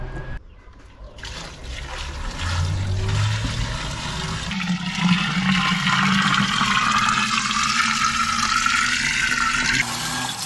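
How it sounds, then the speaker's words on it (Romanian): Water gushes steadily into containers for a homemade lemon elderflower drink, a loud, close, continuous rushing pour lasting about ten seconds with no talking. "urmează să punem apa în recipiente și mai punem zahărul"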